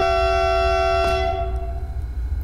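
A loud, sustained multi-tone high tram horn in the video game TramSim, on a Vienna route, blares steadily and then fades away, with a low rumble continuing underneath.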